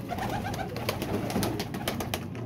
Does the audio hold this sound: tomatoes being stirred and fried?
no